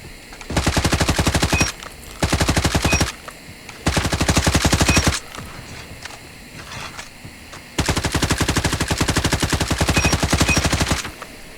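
Automatic gunfire from a CR-56 AMAX assault rifle in a Call of Duty ranked match: four long, loud, rapid-fire bursts separated by short pauses with quieter background game noise.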